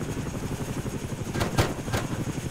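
Helicopter in the video game Arma 3, a continuous rotor chop and engine drone at moderate level, with a few sharper bursts of noise near the end.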